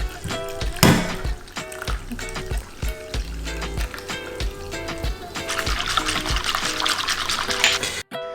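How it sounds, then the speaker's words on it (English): Water is poured into a curry pot for Punjabi kadhi pakora, a trickling liquid splash, with steady background music and a louder pour toward the end. "We'll now add the second half of our water."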